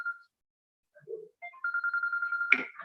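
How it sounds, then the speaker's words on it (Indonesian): A telephone rings in a room during a live online talk, a steady electronic warble repeating in quick pulses for over a second, ending in a brief louder burst, with no talk over it. "Tolong ambil telepon dulu, bunyi."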